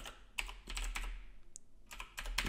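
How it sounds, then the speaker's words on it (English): Close, quick tapping of keys on a computer keyboard while login details are entered, irregular clicks in bursts with a short pause in the middle, faint and without any speech. "would need to type in the test user details"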